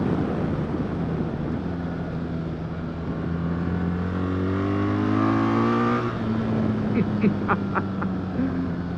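A 2024 BMW R 1300 GS motorcycle pulls hard in fourth gear. Its engine note rises steadily in pitch under strong wind noise, then drops off as the throttle eases, followed by a few faint clicks.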